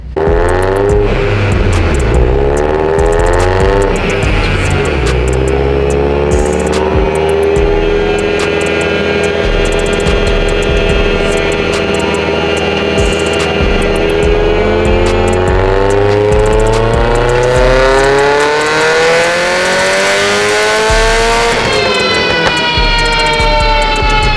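A Mitsubishi Evo X engine boosted to 40 psi revs on a dyno, a loud, sustained rising howl that climbs steadily in pitch for about twenty seconds, drops, then climbs again, close and unbroken.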